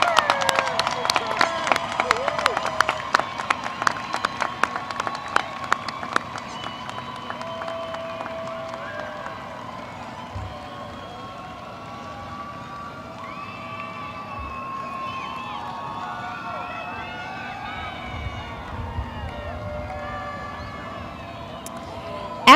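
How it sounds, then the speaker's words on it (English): Audience applause and cheering for the inaugural graduating class at a 2021 CAST Tech High School graduation, with dense clapping loud at the start and fading into a lighter, sustained crowd murmur with scattered claps. "Let's give one more bigger round of applause for our inaugural class of"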